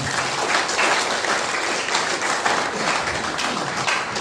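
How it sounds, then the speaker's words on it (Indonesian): A crowd at a community forum gathering in a district office in Pluit, North Jakarta, applauds steadily throughout, dense clapping from many hands at an even level with no pauses. "Tepuk tangan buat kita bersama."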